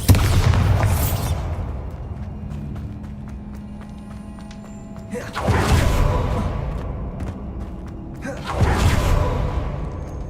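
Bombarda spell explosions in Hogwarts Legacy burst three times, each a loud whooshing blast that fades slowly, spaced a few seconds apart.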